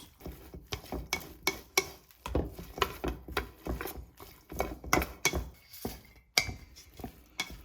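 Shredded green onion being tossed with a spicy dressing for a Korean salad: a quiet, irregular series of close clicks and clatters from mixing, with no voices.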